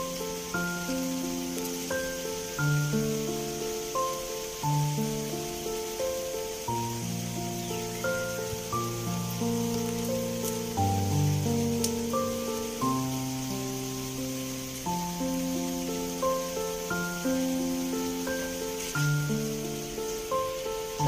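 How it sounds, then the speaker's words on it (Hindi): Heavy morning rain falls steadily outside a home, a constant hiss under a loud, repeating tonal melody that plays throughout. "आज बाहर बहुत बारिश हो रही है"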